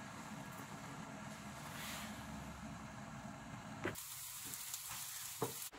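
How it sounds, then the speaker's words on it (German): Eggplant cubes frying in hot fat in a pan, a quiet continuous sizzle with soft stirring scrapes, then a quieter stretch broken by two brief clicks of utensil on pan. "Und dann wird sie jetzt portionsweise angebraten."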